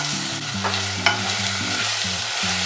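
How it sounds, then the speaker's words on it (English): Bolognese sauce with wine being stirred in a pan over a high flame, steady scraping strokes with a soft sizzle underneath and a couple of sharper clinks, close and continuous with no talking. "We're going to put now on a high flame and keep stirring"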